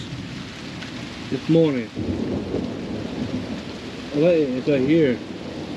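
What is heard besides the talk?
morning rain and thunderstorm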